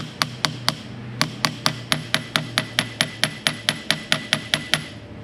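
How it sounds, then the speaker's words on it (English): A small hammer taps a countershaft seal into place, a steady run of about twenty sharp metallic taps, close and evenly spaced with a brief pause early on. "I'm actually going to take a small hammer, a little one, and just going to tap"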